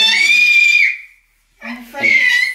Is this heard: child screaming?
yes